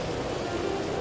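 A rainstorm in Red Dead Redemption 2 makes a steady, dense hiss of falling rain, continuous and even throughout the short stretch.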